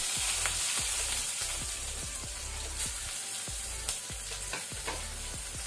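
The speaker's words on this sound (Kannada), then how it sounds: "ಸೊ ಇದನ್ನೀಗ ಲೋ ಫ್ಲೇಮಲ್ಲಿ ಗಾರ್ಲಿಕ್ ಅದು ಸ್ವಲ್ಪ ಕಲರ್ ಚೇಂಜ್ ಆಗೋ ತನಕ ಫ್ರೈ ಮಾಡ್ಕೋಣ" Cumin seeds, garlic and green chilli fry in oil over a low flame with a constant close sizzle. Regular low thumps of a stirring spoon striking the pan repeat roughly every third of a second.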